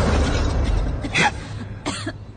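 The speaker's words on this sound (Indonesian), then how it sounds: "aku mendengar lagi suara batuk itu." Coughing sound effect in an Indonesian horror story, with a couple of short coughs standing out over a steady low background rumble.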